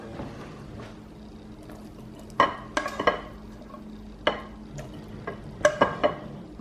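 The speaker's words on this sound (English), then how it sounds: "I'm going to add about half of my vegetable mix, and it's had time to kind of saute off a little bit." Sautéed vegetable mix scraped into a pan for a breakfast casserole, with a soft background sizzle and several sharp clinks and scrapes of a utensil against cookware, close by.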